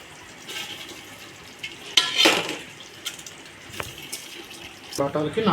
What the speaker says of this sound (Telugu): ఇప్పుడు ఆ రైస్ అనేవి కూడా వేసేసుకుందాం